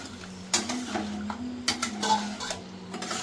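Spice masala for a cauliflower roast is sautéed in a pan, a low faint sizzle under a few distinct clinks and scrapes of a metal spatula against the pan.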